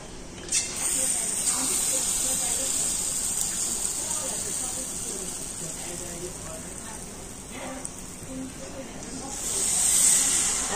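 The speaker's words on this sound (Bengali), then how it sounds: "হাতাটা আমি এখন এই তেলের মধ্যে ডুবিয়ে দেব ব্যাটার শুদ্ধ।" A ladle of batter dipped into hot oil fries with a steady loud hiss and sizzle, with brief crackling bursts, close up and with no talking.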